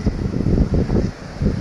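Strong wind buffets a microphone atop a seaside cliff on the east side of Batu Pintu overlooking the Indian Ocean, coming in loud low rumbling gusts with a short lull near the end.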